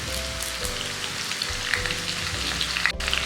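Onions, fennel seeds and curry leaves fry in hot oil for a spicy mutton dry, giving a steady, close sizzle and crackle throughout with no talking.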